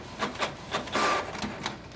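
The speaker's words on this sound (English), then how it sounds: "So you can see our printer is working. It has printed the test page." A Canon Pixma G6070 inkjet printer runs a test page, giving rhythmic mechanical whirring and clicking pulses from the print head and paper feed, close and steady, with no talk.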